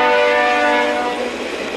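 A train horn blares loudly and steadily with a rich harmonic chord, carried over the rumble of the passing train at a railroad crossing in Dayton, with no voices.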